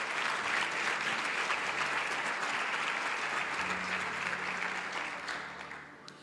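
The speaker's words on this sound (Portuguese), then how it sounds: "Uma salva de palmas aos nossos modelos" Steady round of applause from a church congregation for the models during a pastor's sermon, dense and loud throughout, tapering slightly at the very end.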